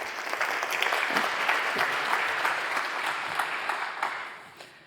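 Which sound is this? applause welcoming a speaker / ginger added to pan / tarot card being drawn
applause welcoming a speaker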